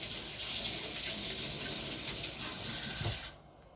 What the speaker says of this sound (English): Wash the spatula.